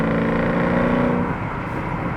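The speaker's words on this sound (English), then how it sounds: "you would expect a car that is going to give you that gruntier sound from the engine" A 2009 Porsche Cayenne S with a 4.8 V8 engine drones steadily while driving on a road, a loud low engine hum with a faint dip in tone partway through.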